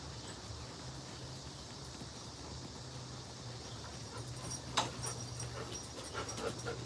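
A dog pants steadily and close by against a constant low hum, with a few sharper yips or whimpers near the end and no talking.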